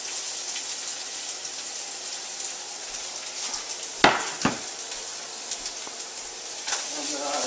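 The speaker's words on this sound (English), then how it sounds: "Get my onions going." Onions and vegetables sizzle steadily in hot oil in a home kitchen, a constant crackling hiss with a couple of sharp utensil clinks near the middle.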